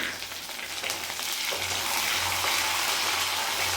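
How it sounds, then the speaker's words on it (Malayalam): Ginger, garlic and kanthari chilies sauté in a pan for a traditional lemon pickle, producing a continuous hissing sizzle that grows fuller and louder after the first second, with a low hum beneath and no speech. "നമ്മുടെ ഇഞ്ചിയും വെളുത്തുള്ളി പിന്നെ കാന്താരി മുളകും ഇട്ട് നമ്മൾ നല്ലോണം വഴറ്റിയിട്ടുണ്ട്"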